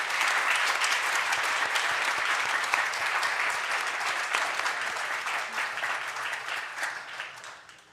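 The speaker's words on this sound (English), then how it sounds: "please give a warm round of applause to Tony Sims" A convocation audience gives a warm, dense round of applause in an auditorium, loud and continuous before slowly tapering off near the end.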